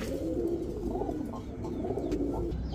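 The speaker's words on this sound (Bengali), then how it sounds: "দেখেন কি সুন্দর কবুতরটা মাশাআল্লাহ" A brown-necked pigeon offered by a pigeon hawker coos steadily up close, its low throaty rolling calls continuing without pause and without any talk over them.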